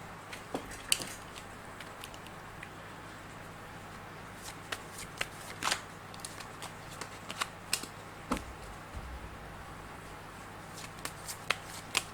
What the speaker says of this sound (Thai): เดี๋ยวอาจารย์จะมาเสี่ยงไพ่ดูให้เพิ่มเติมว่าดวงชะตาของคุณในนี้ จะเป็นอย่างไรบ้างนะครับ